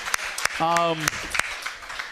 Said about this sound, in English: give a round of applause to the folks from Harpo's